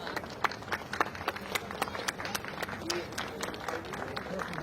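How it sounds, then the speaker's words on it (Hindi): Loud audience applause from a crowd at a Bhojpuri interview event, dense clapping with sharp individual claps running steadily throughout under some background chatter. "जोरदार तालियां।"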